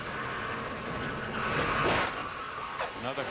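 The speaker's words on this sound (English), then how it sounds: "There's the contact between Ryan Fisher and Gabby DiCarlo" Race cars at the 2009 Daytona ARCA 200 collide during a crash, heard as loud engine roar and tire skidding that swells to a peak, with broadcast commentary over it.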